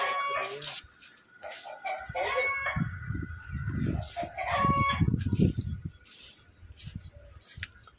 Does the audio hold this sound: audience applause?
no